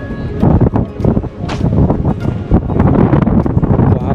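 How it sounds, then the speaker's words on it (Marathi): Strong wind blows across a hilltop fort, buffeting the microphone in loud, gusty rushes that rise and fall throughout. "वारा खूप सुटला आहे."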